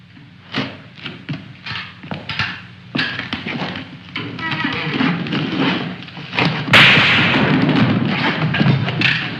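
A burst of sharp gunshots with heavy thuds cracking out, then a loud blast followed by a sustained roar, fairly close and energetic.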